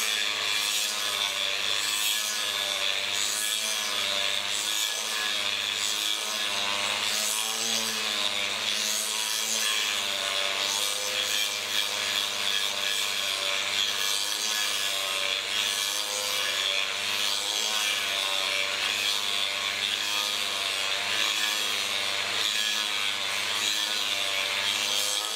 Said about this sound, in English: if you start really grinding into this thing like this, you're gonna wind up leaving a really wavy bevel